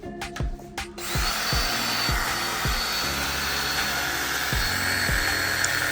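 A whirring power tool runs steadily during headlight repair work on a Mercedes SLK 350, with a sharp start and a series of regular low knocks or bumps under the continuous high whine.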